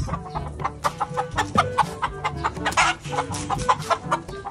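Several chickens, including pumpkin hatch and Henny Blues birds, clucking close by in a busy overlapping chorus of short calls, with no talk.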